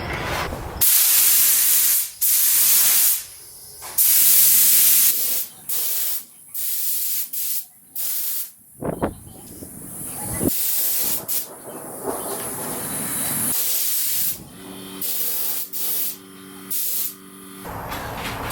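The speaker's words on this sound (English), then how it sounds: "I'm just going to do a quick spray of shellac" A spray gun lays shellac finish onto a wooden arched mirror frame in a series of short, loud, close hissing bursts separated by pauses, with quieter handling noises between passes.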